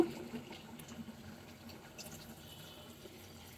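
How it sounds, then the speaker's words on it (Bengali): Water pours into a pan where singi fish and potatoes have been sautéed for a curry. The pouring is a faint, steady liquid trickle against a quiet kitchen background. "এখন ঝোলের পানি দিয়ে দিব"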